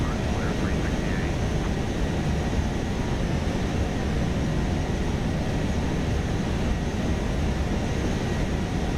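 Airliner in X-Plane 12 descending on an ILS approach, a steady broadband engine and airflow roar filling the cabin, constant and loud throughout with talk present.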